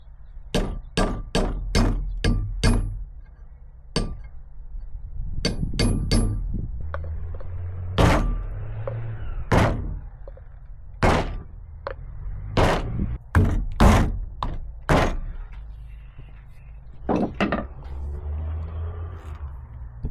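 Sharp metal hammer blows drive a grease seal onto the front hub of a 1969 Chevy C20 pickup during a disc brake conversion. About twenty loud, close strikes land in irregular bursts with short pauses between them.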